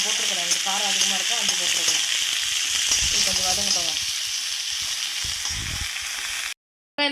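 Oil sizzles loudly and continuously as ingredients are sautéed in a pan with dried red chillies for a chana vada curry, with a faint tonal layer underneath; the sound cuts off abruptly near the end.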